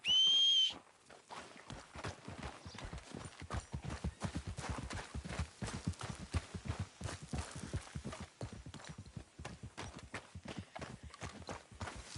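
Rapid, rhythmic hoofbeats clop steadily as a horse gallops in Red Dead Redemption 2, following a brief whistle at the start, with no talking.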